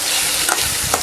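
Tomato sautéing in a hot pan for a chicken curry gives a steady, close, bright sizzle, with a couple of short stirring scrapes against the pan.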